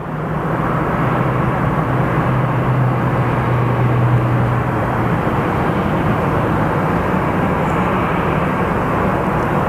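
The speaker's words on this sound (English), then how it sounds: "let's take a look at this Frontier as it passes by" Frontier airplane passing by at Phoenix Sky Harbor Airport, a loud, steady jet engine roar holding constant throughout, with a brief low droning tone early on.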